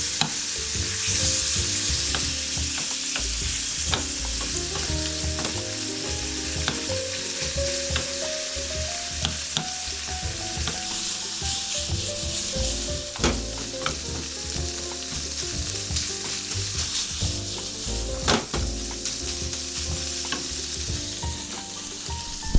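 Ingredients for white sesame tantanmen stir-fried in oil in a pan, a steady close sizzle and crackle running continuously with occasional spatula scrapes and clicks, no voices.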